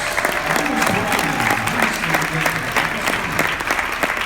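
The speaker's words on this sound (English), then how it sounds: "Let's give a big round of applause" A seated audience at a regional business case competition gives steady, close applause as a presentation team comes forward. Dense clapping fills the whole stretch, with a faint voice underneath.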